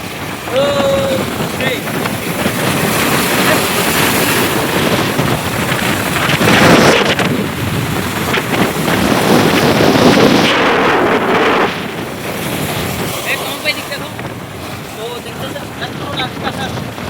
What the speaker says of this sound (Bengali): আপনারা বাতাস কেমন শোনা যায় সেটা এটা দেখেন